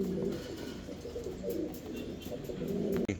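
Pigeons cooing on a pigeon farm, soft low rolling coos repeating near and steady, with faint background rustles and no talk.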